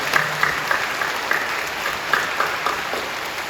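A church congregation applauds during a Sunday worship service at Incheon Full Gospel Church, a dense, steady patter of many hands clapping at moderate loudness for the whole stretch.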